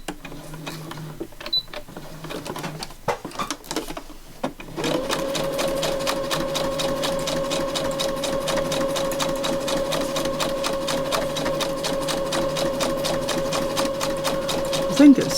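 A sewing machine stitches paper onto a small handmade notebook folio, a steady continuous mechanical whirr running close and loud for about ten seconds after some brief handling noises at the start.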